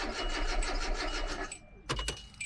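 A 2003–2006 Hyundai Accent with a bad crankshaft sensor cranks without firing, a steady churning starter whir that cuts out, followed by a couple of short bursts of further cranking.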